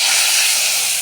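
Water splashes into a hot kadai of spices and bursts into a loud, continuous hiss of steam that fills the moment, steady and close, with no voices over it.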